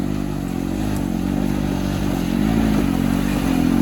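A turbocharged Honda Pioneer 500 side-by-side engine drones loud and close while climbing a steep hill in second gear at half to three-quarter throttle. Its pitch wavers and rises slightly over occasional clattering.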